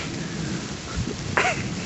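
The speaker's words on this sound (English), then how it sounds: "But it's raining, I mean." Steady rain hisses softly with a low rumble underneath and a brief higher sound near the end.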